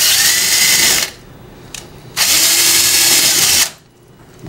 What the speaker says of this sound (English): go ahead and drill through the door.